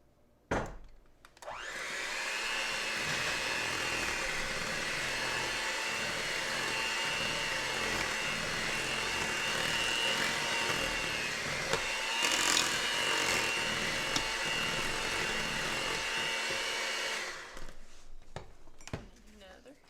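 Electric hand mixer beating eggs into cheesecake batter for a pecan pie cheesecake, a steady whirring drone running almost continuously for about fifteen seconds before cutting off, with people chatting faintly around it.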